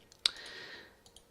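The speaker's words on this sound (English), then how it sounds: "then I click here" A single crisp computer mouse click, close and quiet, followed by a couple of fainter clicks against a soft background hiss.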